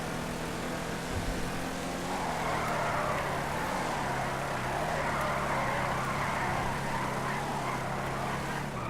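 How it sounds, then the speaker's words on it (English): A car drifting in GTA V gives off a steady, droning engine note held at high revs, continuous and fairly close with a slight shift in pitch partway through. "That was an okay drift."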